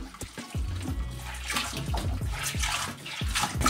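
Water splashes and pours steadily during rinsing, a close, fairly loud rush broken by irregular sloshes and drips as it hits a basin.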